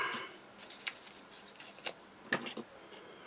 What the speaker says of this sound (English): No, them scissors.